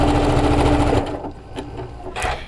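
A sewing machine or serger back tacks a face mask seam with a steady close whir for about a second, then stops, leaving quieter handling clicks and rustles.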